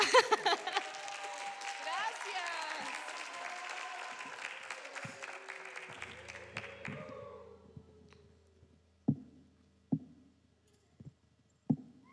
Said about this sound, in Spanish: Un fuerte aplauso para Azmalén